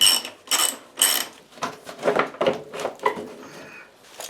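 A ratchet turning on a Honda CB500 Scrambler motorcycle during a build, heard as close, loud bursts of rapid clicking in a steady back-and-forth rhythm, with no talking.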